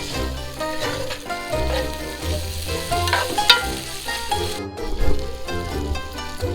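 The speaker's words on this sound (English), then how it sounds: "So I'm cooking up some bacon." Bacon sizzles loudly in a Dutch oven over a campfire, a dense, continuous crackling fry with popping bursts that runs throughout.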